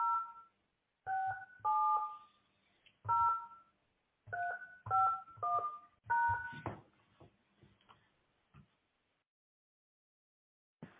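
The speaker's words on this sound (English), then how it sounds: "Please enter your conference dial and PIN and press pound when finished." A telephone keypad sounds a quick sequence of about ten distinct dual-tone beeps as a conference PIN is entered, each press short and clean against near silence.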